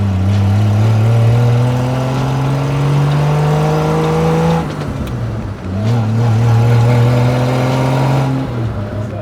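Open-top kit car fitted with a 1960s Triumph Vitesse engine driving past close by, the engine note rising through the gears, dropping on a gear change, then climbing again, loud and steady.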